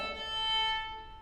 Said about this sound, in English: I get actually a sound that we sometimes are called for, ponticello sound.